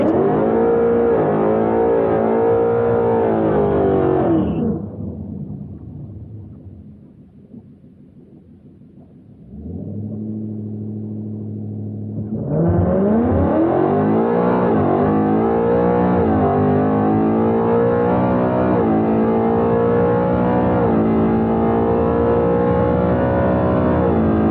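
A car launches hard down a drag strip, its engine note climbing loud and near, dropping away to a quieter lull, then surging again in a long, rising roar of acceleration.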